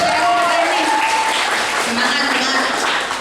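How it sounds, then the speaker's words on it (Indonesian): An audience of students at a road traffic safety outreach event applauds in a steady wash of clapping throughout, loud and close, with voices mixed in. "tepuk tangan dulu aja mereka"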